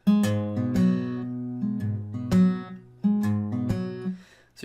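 Acoustic guitar picks a short fingerstyle phrase from a song, with plucked notes and percussive slaps in a lilting rhythm, played close and clear with no talking.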